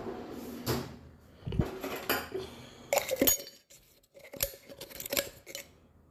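A metal spoon scrapes stuck coffee powder out of the bottom of an empty coffee jar, giving close, scattered bursts of scraping and light clinks separated by brief pauses, with no voices.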